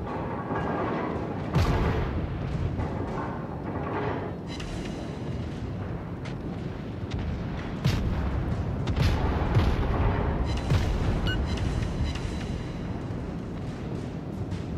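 Heavy booming gunfire in World of Warships rolls on continuously, with loud bursts and a dense rumbling wash beneath, sounding like big naval guns firing in sequence.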